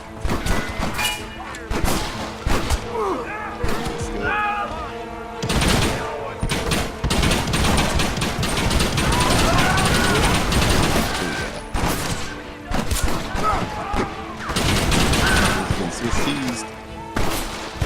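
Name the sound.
Gatling gun firing in Red Dead Redemption video game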